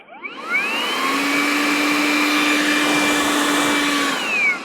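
A Flowzone Vortex Flex backpack sprayer runs as a mosquito fogger, giving off a steady, loud whirring blower hum that spins up, holds for a few seconds and winds down, with no talking.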